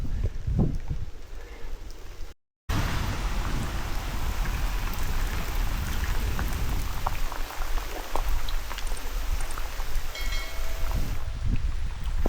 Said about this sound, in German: Also der Regen wird eher immer doller anstatt weniger.